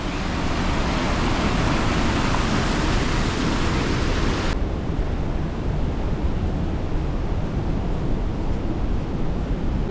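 Water washing in along the shore at Cramond near Edinburgh, a steady close broadband surf rush that holds for the whole stretch with no voices.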